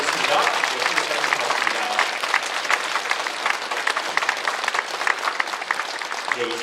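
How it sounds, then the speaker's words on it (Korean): A church congregation applauds a visiting missionary at a midweek prayer meeting, dense steady clapping filling the hall throughout, with voices mixed in beneath it. "여러분 다시 한번 박수로"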